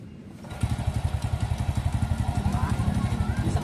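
Motorcycle engine kick-started on the first try, catching after a brief scrape and settling into a steady, fast, loud thumping idle close by.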